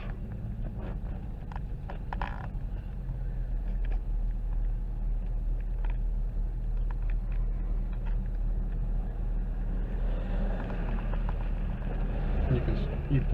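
A police-package car, a Crown Vic or Chevy, idles with a steady low engine rumble that stays constant throughout while people talk over it.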